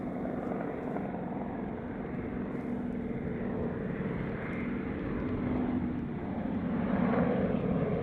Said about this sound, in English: The Wirraway was the first aircraft to be mass-produced in Australia